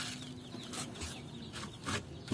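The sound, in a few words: chickens clucking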